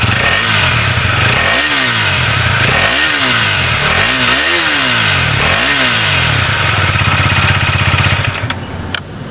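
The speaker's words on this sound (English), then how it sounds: "let's hear the exhaust note" A Husqvarna Vitpilen 250 motorcycle engine revs repeatedly in a steady rhythm, its exhaust note rising and falling through several throttle blips over a constant idle, loud and close, settling down at the end.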